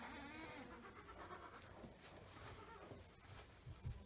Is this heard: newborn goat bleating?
yes